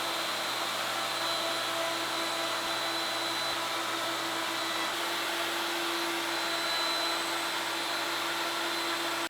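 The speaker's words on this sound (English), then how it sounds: "round over some edges on the rails and all of the edges on the legs using an 1/8 inch radius round over bit" A router fitted with a 1/8 inch round-over bit rounds the edges of wooden rails and legs for a wine hutch, giving a steady, loud, unbroken whirring whine that holds for the whole stretch without talk.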